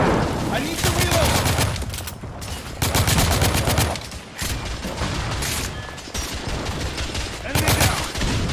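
Gunfire in the video game The Order: 1886 comes as loud bursts of rapid automatic fire, several volleys separated by short pauses, close and dominant.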